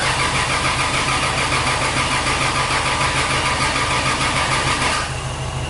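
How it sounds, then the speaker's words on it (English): A 2JZ engine swapped into a Nissan S13 cranks over steadily without catching, a loud continuous mechanical churn with pulsing starter rhythm for about five seconds before stopping abruptly. "it turns over, but now it's not starting"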